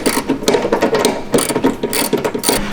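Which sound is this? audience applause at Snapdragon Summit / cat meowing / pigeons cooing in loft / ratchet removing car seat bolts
ratchet removing car seat bolts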